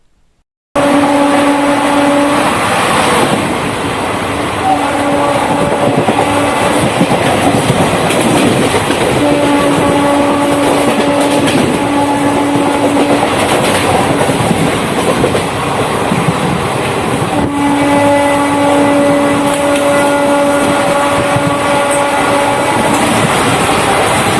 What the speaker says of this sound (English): just sit back and relax and enjoy this beautiful train journey with me